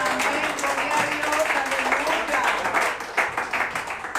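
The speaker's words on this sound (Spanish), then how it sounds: "Dale un fuerte aplauso a la presencia de Dios" A congregation at a church service claps together, a broad moderately loud patter running throughout with voices and tonal sounds mixed in over it.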